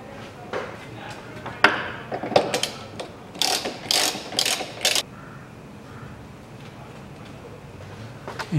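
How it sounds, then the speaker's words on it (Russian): A ratchet loosens the subframe nuts on a 2007 Mazda 6, making close bursts of quick clicking with short pauses between them and fainter mechanical noise afterward. "Откручиваю обе гайки с одной стороны и с другой стороны."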